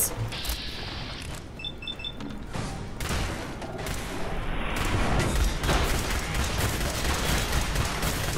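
Dense, continuous combat noise in Fallout 4 with the Automatron add-on, with shots, booms and mechanical clatter blending into a loud, steady roar throughout.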